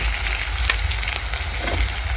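Onion fries in a pan with cumin seeds, giving a loud, dense, continuous sizzle with crackles and occasional stirring scrapes, close by and without talk.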